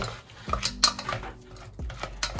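Choux pastry dough being mixed in a pan produces a few sharp clinks and knocks of a utensil against the metal, with soft scraping between them. The sounds are close and irregular.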